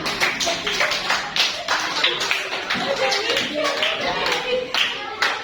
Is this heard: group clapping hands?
yes